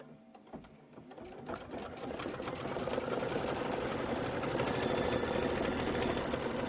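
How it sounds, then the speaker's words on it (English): A sewing machine quilting a Kimberbell Candy Corn Quilt Shoppe Halloween design runs steadily and loudly, its fast needle hum building after a brief start and holding a dense, continuous mechanical whir. "This is 3 minutes of quilting."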